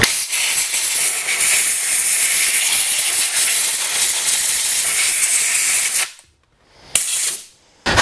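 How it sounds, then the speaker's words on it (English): Compressed air blasts in a loud, continuous hiss, blowing debris off the carburetor area of a Stihl MS170/MS180 chainsaw, then cuts off and returns for two short bursts near the end. "I will just shut the choke and air blow to clean this all out here before I continue."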